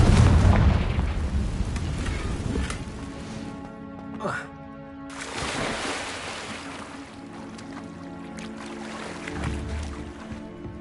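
Explosive Confringo fire spell blasts in Hogwarts Legacy, with a loud burst at the start and smaller booms later, set against a rolling, surf-like game ambience.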